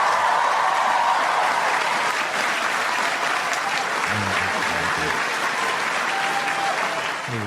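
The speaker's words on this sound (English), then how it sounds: "Just applause?" A graduation audience applauds for a class of 2016, with continuous loud clapping from a large crowd and brief voices rising faintly partway through.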